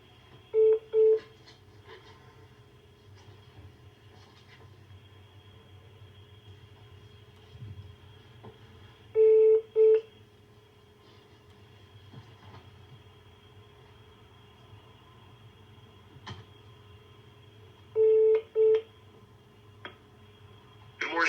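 Telephone tones during a call transfer: paired beeps repeat roughly every nine seconds over a quiet line with faint background hum, and no talk.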